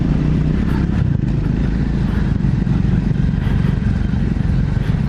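A Land Rover 4x4 with a TD5 diesel engine runs with a loud, continuous, clattering rumble that stays steady and close throughout.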